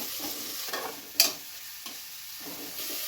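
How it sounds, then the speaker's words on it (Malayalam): Chopped onions frying in oil for a pressure-cooker chicken biryani, a soft continuous sizzle with a sharp utensil clink and occasional stirring, no speech. "3-4 മിനിറ്റ് എണ്ണയിൽ കിടന്ന് നന്നായിട്ടൊന്ന് മൂക്കട്ടെ."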